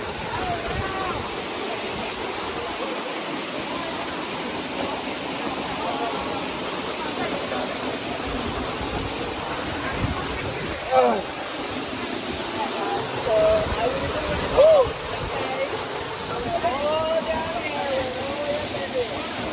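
A waterfall in a Puerto Rico rainforest sends out an even, hissing wash of falling water. Brief voices and faint calls rise over the water now and then.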